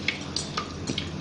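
Water poured into a kitchen jug while cleaning it out after making chutney, heard as a short, close trickle with splashy drips.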